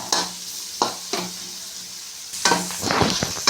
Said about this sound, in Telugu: కలుపుతున్నాం ఇవన్నీ ఏగనిద్దాం బాగా